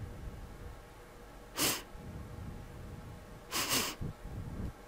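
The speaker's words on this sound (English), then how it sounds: "it sounds like a male breathing, and this is what it sounds like somebody sniffling or sniffing" A man's breathing over a phone line, with two sharp sniffs or snorts rising out of a quiet, hissy background.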